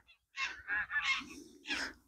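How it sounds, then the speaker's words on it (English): Several loud, harsh geese honks in quick succession at a distance, overlapping one another, with no talking. "Lots of ducks in the background, sorry, geese in the background kicking off."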